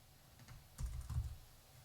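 Someone typing code on a computer keyboard makes a few quiet clusters of key clicks, two short bursts close together in an otherwise faint, still room.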